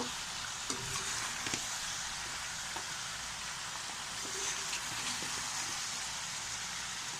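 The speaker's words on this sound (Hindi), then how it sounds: "इसे अच्छे तरीके से हिलाते जाएंगे ताकि सारे मसाले चिकन में हल हो जाएं।" Chicken frying in a pan with finely ground garam masala while being stirred, a steady close sizzle with occasional scraping and clicking from the stirring, no talk.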